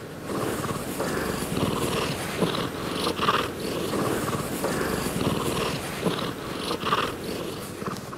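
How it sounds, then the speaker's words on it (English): Close, steady non-solicitation purring from a cat, a continuous rhythmic rumble with regular breathing cycles throughout. "The first is the non-solicitation purr."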